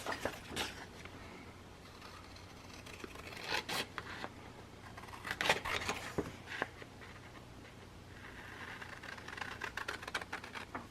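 Scissors cut a small paper piece for a floral scrapbook flip pocket page, making quiet, close, irregular snips and paper rustles.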